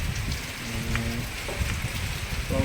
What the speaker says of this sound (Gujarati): ખાલી 10 જ મિનિટ જેવો આવ્યો છે વરસાદ